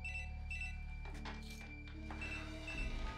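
A telephone rings in a greenhouse with repeated electronic trills over a low steady hum, faint and held at a distance, with no talking.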